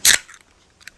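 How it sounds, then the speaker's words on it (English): A single sharp snip as 1/4-inch copper line is cut to length for a well pump repair, a close, loud clip followed by a faint small click a moment later. "I'm going to get these compression fittings on this 1/4-inch copper line so I can get the length correct and then cut it."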